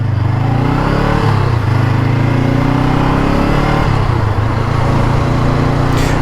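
A Honda CBR500R sport motorcycle engine drones loudly and continuously while riding, its pitch dipping and rising slightly with throttle changes under steady wind rush.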